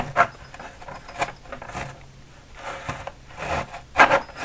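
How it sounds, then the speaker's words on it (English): A hand saw works through lumber in a miter box with scattered, fairly quiet rasping strokes, a few sharper scrapes standing out among the softer rubbing passes. "I'm going to do this with a miter box and a saw"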